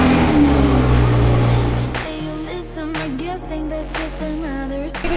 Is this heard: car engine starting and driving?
yes